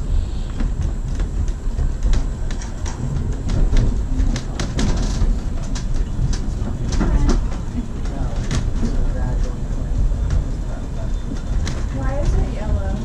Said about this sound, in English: the cool thing is we're going to pass the other train.